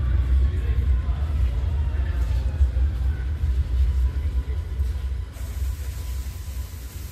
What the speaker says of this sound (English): There it is. The train that I thought had no headlights when I'd see it on the bridge.